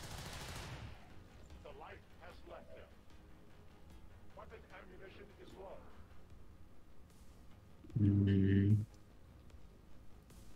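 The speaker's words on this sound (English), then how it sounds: "Did I just shoot the big guy or did he disappear?" Gunfire from the video game XCOM 2 comes as one loud, dense burst near the end, after a stretch of quiet low voices and faint game ambience.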